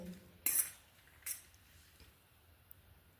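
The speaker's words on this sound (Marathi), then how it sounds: "आता हे सगळं मिक्स करून घेऊ" A spoon clinks twice against a bowl while bhel ingredients, including chopped onion and spring onion, are mixed; two short, faint metallic taps sit over a quiet background.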